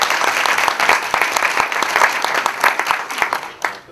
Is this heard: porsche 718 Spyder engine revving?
no